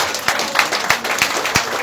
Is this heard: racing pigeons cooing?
no